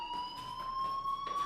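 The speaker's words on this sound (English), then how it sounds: "do you hear that fire alarm?" A fire alarm in the video game Life Is Strange rings with a steady high electronic tone, pulsing faintly in the background of a quiet scene.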